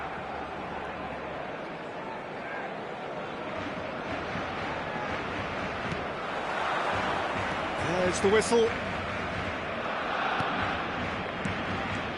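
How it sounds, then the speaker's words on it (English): Dense stadium crowd roar from a full match-day ground in the eFootball 2026 football game, a broad steady wash that swells midway with a brief whistle-like burst, all running under continuous commentary. "The stadium is full of noise and energy."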